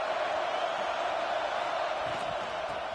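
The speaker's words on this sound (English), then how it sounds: "This crowd is trying to inspire this defense to make a big red zone stop." Stadium crowd in a college football video game, Penn State at Florida, a dense, steady roar from a large crowd pushing for a red zone stop, continuous and fairly loud with no clear voices.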